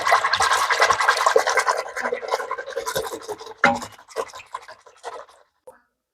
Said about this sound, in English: Now we're just going to whisk away.